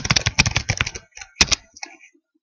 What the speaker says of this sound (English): I'm going to type in my name.